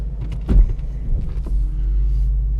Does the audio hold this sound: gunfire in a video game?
no